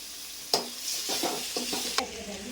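Chopped tomato, curry leaves and ginger garlic paste sizzle in a hot pan for Thiruvananthapuram-style chicken curry, with a few sharp stirring scrapes breaking through the steady close frying hiss.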